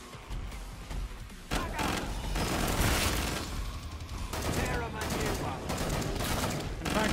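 Sustained covering gunfire rattles through a Killing Floor 2 co-op match, with dense overlapping shots and a brief lull before the barrage resumes loudly, while players chatter underneath.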